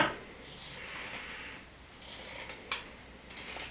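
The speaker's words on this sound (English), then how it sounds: "We're just gonna take our fabric scissors and trim it down." Several short snips of scissors cutting through fabric, close by, in uneven bursts with brief pauses between cuts.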